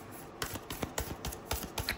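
Deck of tarot cards being shuffled by hand, giving a quiet, close run of crisp flicking and riffling clicks in uneven bursts, with no voice.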